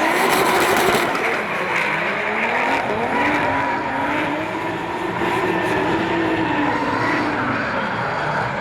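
A drift car engine roars at full throttle at Wellington Speedway during a D1NZ Pro-Championship drift battle, a loud sustained howl with rising and falling pitch as the car sweeps through the turn, heard alone.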